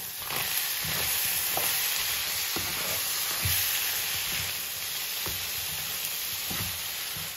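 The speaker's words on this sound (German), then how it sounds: "Und das rühren wir jetzt um." Beef and rice with tomato paste and ketchup sizzles in a hot pan while a utensil scrapes and stirs it in irregular strokes, the frying hiss constant underneath.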